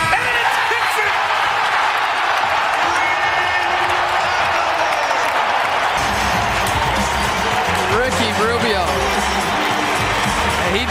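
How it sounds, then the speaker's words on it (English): A Utah home crowd gives a sustained ovation at an NBA playoff basketball game, a loud, continuous roar of cheering and applause that swells in the second half, with a commentator talking over it. "He deserves every bit of this ovation that he's getting from this Utah crowd."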